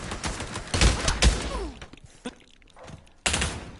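Gunfire in the Pavlov VR shooting game: bursts of loud rapid shots near the start, a sharp single crack mid-clip, and another loud volley at the end, with quieter gaps between.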